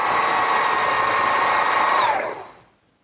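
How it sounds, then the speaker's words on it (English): A power drill fitted with a taped depth-marked bit bores a stopped hole in wood for a garden swing, a steady loud whine that runs alone for about two seconds before the motor cuts off and winds down. "I want to drill those next"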